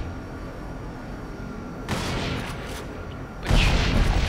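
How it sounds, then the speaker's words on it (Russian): Gunfire in the video game Crysis: two bursts of heavy, noisy firing follow a quiet stretch, loud and close, with no voices. "там был пулемет"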